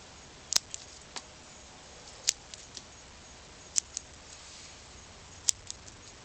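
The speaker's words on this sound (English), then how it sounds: "But for now I'm just going to cut the growing tips." Cutters snip bougainvillea branch tips: four crisp, close snips spaced a second or two apart, with a few fainter clicks between them, in an otherwise quiet room.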